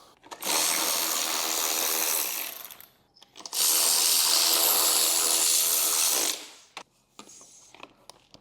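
A power tool drives bolts back into a 1998–2013 Harley-Davidson Street Glide, two long loud whirring bursts of several seconds each, followed by a few short clicks and softer handling sounds.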